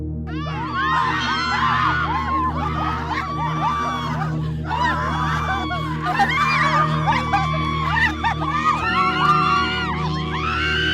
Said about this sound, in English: You hear the screams and the cries of the innocent ones you took their life.